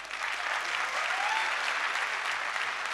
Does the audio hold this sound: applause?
yes